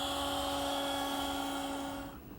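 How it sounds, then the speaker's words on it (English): A router table with a chamfering bit cuts the edge of a wooden seat slat, giving a loud, steady high-pitched whine that drops away just before the end. "I've now moved my chamfering bit into the router table. 2 passes takes care of each piece."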